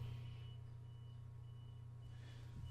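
Steady, evenly spaced reversing beeps from a neighbor's truck on the street, faint and somewhat distant over a low engine rumble, repeating without pause; no one talks.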